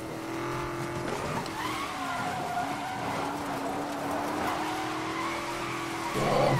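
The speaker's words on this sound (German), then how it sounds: "Guck dir den Drift an." A car drifts through a long slide in Need for Speed Most Wanted 2012, tires squealing in sustained pitched wails over a steady engine roar, close and loud throughout.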